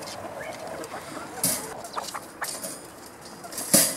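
A hen clucks in short, irregular bursts close by, with a couple of louder squawky notes amid light background rustle.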